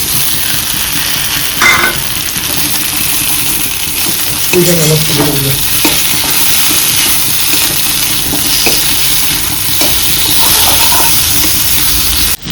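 Half-fried chicken sizzling in a pan with deeply browned onions, a loud continuous frying hiss with occasional stirring scrapes and clinks, close to the pan.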